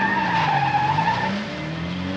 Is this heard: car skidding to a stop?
yes